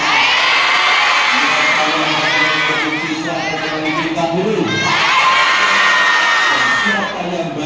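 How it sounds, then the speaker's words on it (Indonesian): Crowd of high school students at an Indonesian school assembly shouting and cheering loudly and continuously, with whoops and overlapping young voices; distinct clapping is not clearly separable from the cheering. "Jadi mari tepuk tangan untuk teman"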